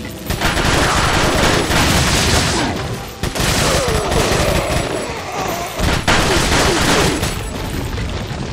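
Loud, relentless Gatling gun fire from a large enemy in the video game Resident Evil 4 pours out in long continuous streams, broken only by a few brief pauses.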